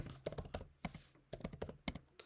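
Typing on a computer keyboard during a mobile app design session, several bursts of crisp, close key clicks separated by short pauses.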